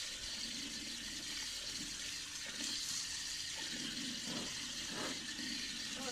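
Garlic bulbs caked in soil are rinsed under a running tap, a continuous rush of water with occasional splashing and sloshing from handling, close by and without talk.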